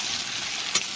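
Koi fish fry in a pan with a steady, close sizzle, broken once by a quick scrape as the pieces are stirred.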